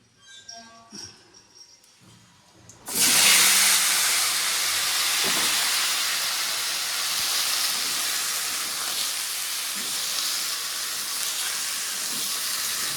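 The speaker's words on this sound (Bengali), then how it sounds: "আমি ওই যে লাউ টাউগুলো সব ধুয়ে নিচ্ছি" Bottle gourds are washed in a steady stream of running water, a loud, continuous hissing rush that starts abruptly after a few quiet seconds of faint kitchen sounds.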